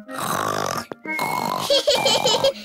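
A voice mimics snoring with drawn-out, throaty grunts and snorts that slide into chuckling, loud and close.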